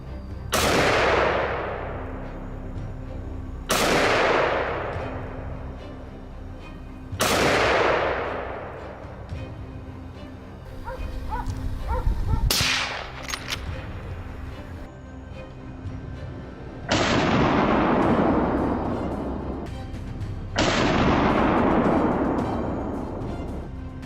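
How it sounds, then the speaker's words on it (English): Six loud gunshots ring out one at a time during a winter wild boar hunt, spaced a few seconds apart, each a sharp blast trailing into a long rolling echo, with faint metallic clicks between them. "After the thunderous explosions of gunshots, the area falls eerily silent."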